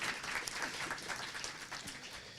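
Audience applause for a journalist standing up at a storytelling event: steady, fairly soft clapping from a crowd, continuous and evenly spread without voices.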